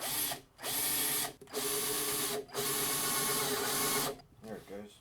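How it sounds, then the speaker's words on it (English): A power drill boring a hole for a modified phone head mount, whining steadily in long bursts with a few short pauses, close and loud. "I like to use it when I'm drilling holes as well"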